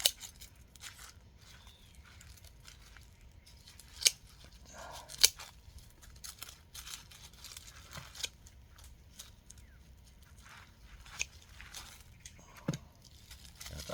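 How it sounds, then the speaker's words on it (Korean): Scissors snip roots off succulents such as echeveria and haworthia, giving faint, scattered cuts with a few sharper clicks against a quiet background. "이런 아이들은 뿌리를 살리려고 하지 마시고 그냥 바로바로 잘라 가지고"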